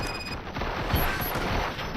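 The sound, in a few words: gunfire from the RoboCop Rogue City video game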